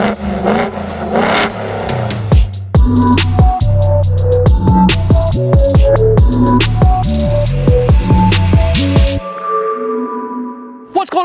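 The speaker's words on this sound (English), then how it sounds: "doing the Corsa Performance Xtreme Catback on our F-150." A Ford F-150 pickup fitted with a Corsa Performance Xtreme catback exhaust revs loudly and close, with repeated sharp throttle blips and a deep rumbling idle between them, then a sudden cutoff near the end.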